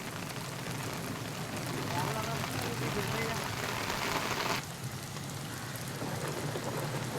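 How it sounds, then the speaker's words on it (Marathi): Heavy overnight rain in Shahapur pours steadily in a dense, continuous hiss, loud and close throughout, easing very slightly partway through. "शहापूरमध्ये मुसळधार पाऊस रात्रीपासून सुरू आहे"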